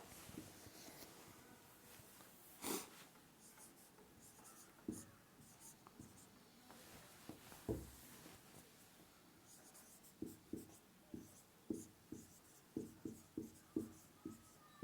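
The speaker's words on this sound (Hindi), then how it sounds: "अब इसे हिंदी मीडियम के लिए लिख दूं" Marker or chalk writing on a board during a physics lesson, a run of soft scratchy strokes and taps, scattered at first then in a quicker cluster near the end, close and fairly quiet with no talk.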